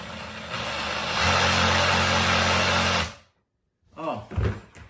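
Repaired Makita 18V reciprocating saw motor running, a loud steady buzzing whir that rises in pitch after a second, then cuts off abruptly, followed by brief voices.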